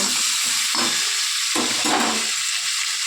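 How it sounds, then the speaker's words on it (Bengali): Pieces of elephant foot yam and prawn frying in a pan for ol chingri dalna, a steady loud hiss that swells in bursts as pieces are moved, with no voices. "লাল লাল করে ভেজে নেব।"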